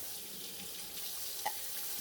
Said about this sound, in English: he's going to put hot water in to the point where he can tolerate it